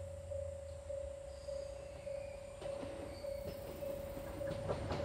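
A train passing at Takio station on the Hōhi Main Line, heard from a distance as a steady low rumble with rhythmic wheel clicks and a constant high tonal whine.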